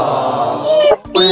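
Two loud, close, drawn-out meows of a cat with a brief break between them, heard during an online class.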